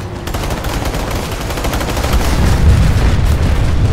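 Rapid automatic gunfire and booming explosions in the online shooter PlanetSide 2, a loud continuous barrage of overlapping shots that thickens into heavier low rumbling blasts toward the end.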